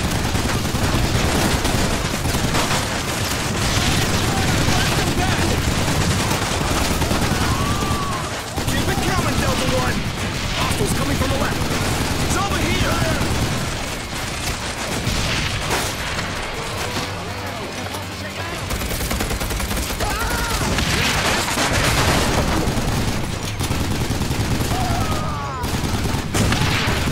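Sustained machine gun fire in the arcade shooter Time Crisis: Razing Storm, loud continuous bursts and rapid gunfire filling the scene with explosions and crashes, while voices shout over the shooting.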